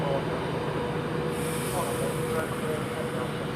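A Virgin Trains class 390 unit, 390-124, of 11 carriages, runs at Coventry station with a steady heavy rumble and faint wheel squeal, close and constant, while a voice speaks over it.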